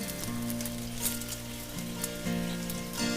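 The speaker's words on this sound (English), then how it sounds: "We're just browning these up lightly, both sides, on a medium heat." Perogies browning lightly on both sides in a frying pan over medium heat give a steady, close sizzle and crackle with a constant hum and no talking.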